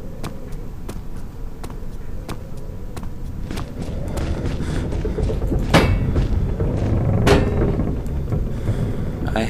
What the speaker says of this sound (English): I hate how fucking creaky this house is